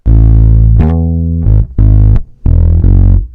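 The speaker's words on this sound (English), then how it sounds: "Here's a bass part." A loud synthesized bass part sample plays alone, a long sustained note followed by several short punchy notes in a steady rhythm.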